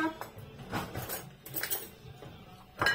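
A fork clinks and scrapes against a dish while mashing cold, stiff butter, giving a few uneven taps and scrapes up close with no talking.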